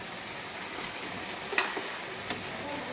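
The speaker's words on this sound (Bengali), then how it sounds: "খিচুড়ির যে সবজিটা আছে সেটা কিন্তু একই তেলে আমি ভেজে নেব।" Khichuri vegetables fry in oil already used for cooking meat, giving a constant close sizzle with a couple of sharper pops and stirring clicks near the middle.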